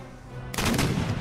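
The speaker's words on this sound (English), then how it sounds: "my gunners engage those Islamic swordsmen with canister fire" Cannon canister fire in a siege battle of the strategy game Empire: Total War, Ottoman gunners shooting shrapnel at swordsmen: a quiet rumble, then a sudden loud burst of overlapping booms and crackling blasts that keeps rolling to the end.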